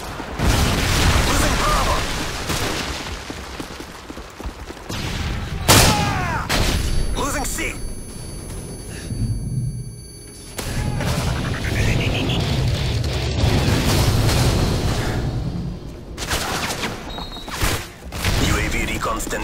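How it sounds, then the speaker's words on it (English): Explosions, bursts and gunfire fill a Modern Warfare 3 Domination match on the Arkaden map, with a Predator missile strike among the loud booms; radio-style announcer voices talk over the steady combat din. "Friendly Predator missile inbound."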